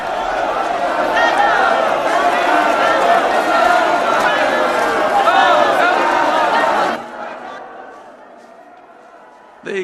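A dense crowd of people murmuring and bustling close by, a broad continuous din of many voices and movement that cuts off abruptly near the end, leaving a quieter room.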